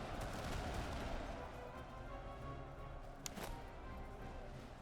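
A lone crack of musket fire from troops in Master of Command stands out against a dense, quiet battlefield murmur, a single sharp report heard at some distance.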